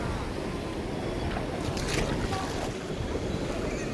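Fast-flowing river water rushes through Kallanai dam in a loud, unbroken roar, mixed with buffeting wind noise against the microphone.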